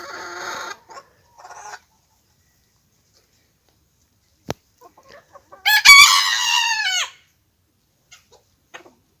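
Chickens cluck in short bursts with silent gaps, then one hen lets out a louder, drawn-out squawking run before a few faint clucks.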